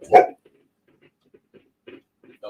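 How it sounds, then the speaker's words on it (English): A dog barking indoors at a house, one sharp loud bark followed by faint whimpers and soft yips, then another short bark at the end. "He's also extremely oversensitive to sound and barks at everything that might go near the house."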